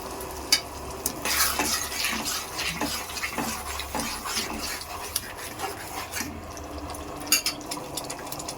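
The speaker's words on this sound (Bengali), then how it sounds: "আমার চিলি চিকেনের গ্রেভিটা ফুটছে" Restaurant-style chilli chicken gravy, thinned with a little water, bubbles and sizzles in the pan while a spoon scrapes and stirs it in rough, uneven strokes, fairly loud and close.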